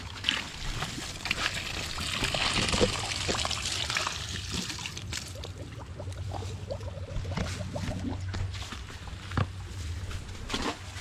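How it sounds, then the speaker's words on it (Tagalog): Water poured into a cooking pot for miki gisado in a rural kitchen, a steady trickle with light splashing that runs on for several seconds, close and moderately loud. "lagyan natin ng tubig niya"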